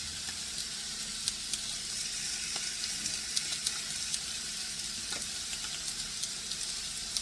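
Steaks seasoned with smoked applewood sea salt sizzle on the grill, a steady soft frying hiss with occasional small pops and crackles, fairly quiet and without talk.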